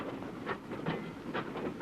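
Railway wagons roll past during shunting in a vintage railway safety film, giving a rhythmic clattering and clanking at moderate distance, steady throughout with no voices.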